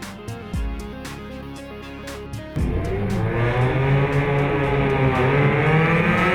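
A 2003 Mini Cooper S race car with a stripped interior and WRC-spec roll cage, at the Pikes Peak hill climb. Its engine drones steadily up close, then surges louder after a few seconds into a hard, climbing rev.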